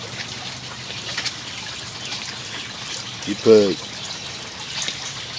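Water poured into a small pitcher to mix three parts water with one part bleach, a steady, close trickling wash that runs throughout, with a brief spoken remark partway.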